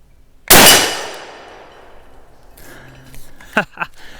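A rifle firing a 9.1 Blackout wildcat cartridge at a steel target: one loud, sharp report with a long decaying ring, followed by faint clinks and handling noises.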